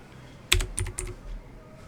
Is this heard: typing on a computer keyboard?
yes